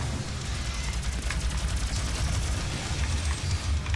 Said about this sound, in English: Plasma rifle.